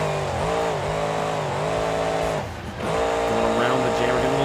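A monster truck roars through a freestyle run in BeamNG.drive, its engine revving and falling in wavering pitch sweeps, with a brief dip around a landing before the motor surges back, close and loud.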